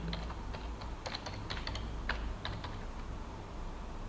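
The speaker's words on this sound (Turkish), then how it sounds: "bir daha Enter'a basıyorum" Typing on a computer keyboard while changing an admin password in ETAP 23 software, with a rapid scatter of light key clicks and a firmer Enter press, close up over a steady low hum, no talking.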